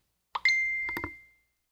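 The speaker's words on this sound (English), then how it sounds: "That was my phone." A phone notification goes off in a prison maze video game: one short, bright chime with a ringing tail, followed by a couple of quick plinks, alone against silence.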